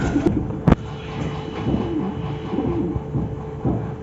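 Pigeons coo close by in soft, low, rolling calls that repeat through the moment, with a couple of sharp knocks near the start.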